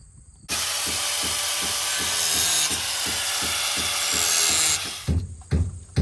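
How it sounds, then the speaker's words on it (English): A grinder cuts the tips off screws in a chicken coop, a loud continuous whine and rasp held for about four seconds before it stops and spins down, with a couple of knocks after. "I'll use a grinder and cut the heads off, or the tips off"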